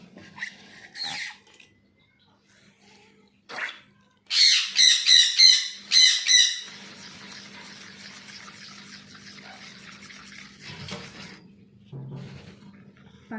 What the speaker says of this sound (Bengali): ওরাও পুরো খাওয়ার জন্য দেখো রেডি কীরকমভাবে চিল্লাচ্ছে